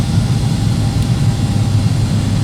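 A Boeing 757 airliner taxiing, its engines giving a loud, steady low rumble with a broad hiss over it, unbroken and constant throughout.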